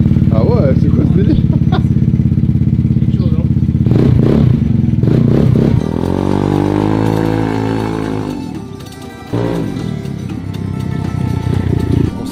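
A motorcycle engine in Thailand revs hard and loud close by, with rising and falling pitch sweeps, a clattering mechanical edge and a brief drop near the end before picking up again; voices speak over it.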